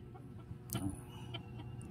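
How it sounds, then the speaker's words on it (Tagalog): Red junglefowl cluck softly nearby, with one brief clearer call in the middle over a quiet, steady background. "Ito yung ating mga labuyo."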